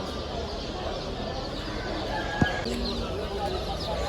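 Chickens cluck at the Bursa chicken market beneath a steady bustle of crowd murmur and nearby voices, with one sharp knock partway through.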